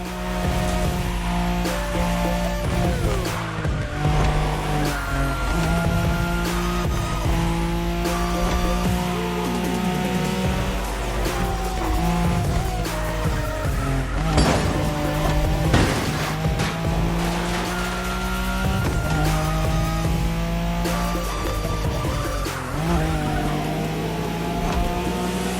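Racing cars in The Crew Motorfest on a high-speed Wangan race along the Tokyo Bayshore route, a loud sustained engine roar with rising and falling revs, gear shifts and squealing tires throughout.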